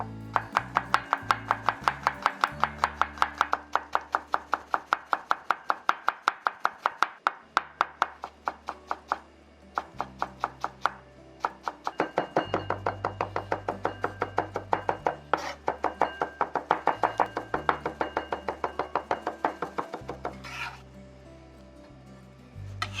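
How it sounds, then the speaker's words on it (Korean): Rapid, steady knife chops on a cutting board as garlic is minced finely for tomato-sauce seafood spaghetti, rhythmic and close, with soft music underneath. "마늘은 곱게 다져 주세요."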